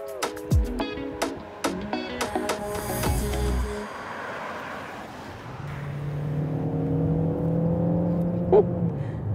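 A 2025 Dacia Bigster hybrid SUV with 155 hp, combining a 107 hp engine and a 49 hp electric motor, pulls away with a rising engine whir that builds steadily and fairly loud from inside the cabin, after some clicks and knocks.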